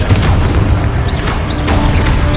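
Confringo and Expulso spell blasts in the Hogwarts Legacy video game boom loudly and heavily, one deep burst rolling into the next over a dense rumbling battle din, with no voices.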